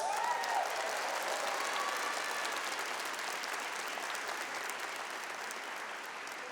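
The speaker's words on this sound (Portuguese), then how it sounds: "Aplauda isso." A church congregation claps together during a sermon, a steady, full wash of applause from many hands that holds at an even level and tapers slightly toward the end.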